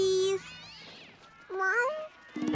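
Cartoon cats meow in several drawn-out, rising and falling calls separated by short pauses. One starts loud and close, later ones sound more strained.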